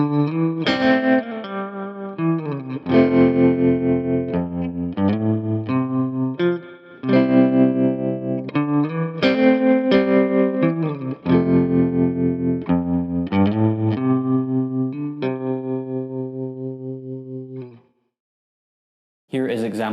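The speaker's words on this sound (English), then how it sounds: "Slowed down, example 1 sounds like this." Slowed-down electric guitar rhythm figure run through distortion, chorus and echo effects, with ringing chords that sustain and shift in phrases and then fade into silence near the end.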